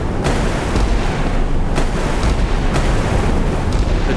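Warship cannons firing in a Sea Power naval battle between a Horizon destroyer and a Suffren frigate, with loud sharp reports repeating about once a second over a heavy roar of wind and sea.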